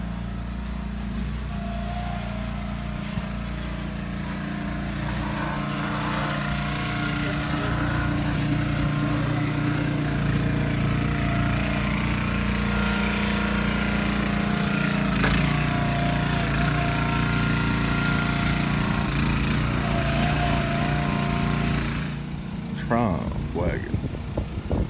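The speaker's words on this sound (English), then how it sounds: "John Deere tractor." A John Deere tractor engine runs at a steady rough drone at a historic farm, loud and continuous with a brief sharp clank midway, before the engine noise drops away near the end.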